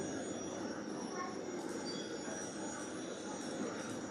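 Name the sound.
model train running on club layout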